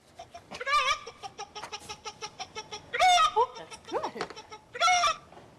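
A man imitates a chicken at a clucking contest, making rapid clucking bursts and squawks in several loud clusters with short pauses between them.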